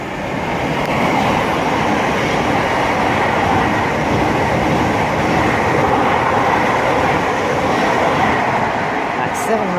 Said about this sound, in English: That's 700 106 with 1 Whiskey 43, the 1554 Thameslink service from Bedford to Brighton.